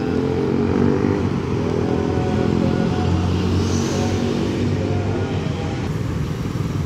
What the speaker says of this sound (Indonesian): Kita lihat guys, ada bus Parwis alias bus pariwisata